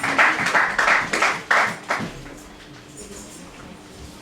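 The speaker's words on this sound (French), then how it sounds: "Acclamons la parole de Dieu." A church congregation claps in a short burst of applause that fades out after about two seconds, leaving a quiet room with a faint hum.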